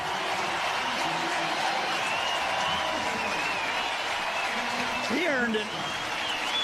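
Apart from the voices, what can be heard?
baseball stadium crowd applauding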